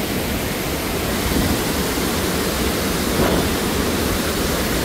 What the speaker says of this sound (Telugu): ఈ వాటర్ ఫాల్ ఎప్పుడు వస్తూనే ఉంటుందంట.